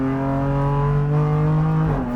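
BMW M4 GT4 track-only race car engine on a circuit, a loud sustained droning tone heard from inside, held steady with a slight drop in pitch as the throttle eases off near the end.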